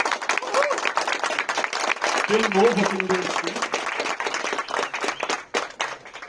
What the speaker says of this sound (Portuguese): Queria pedir, inclusive, uma salva de palmas para ele.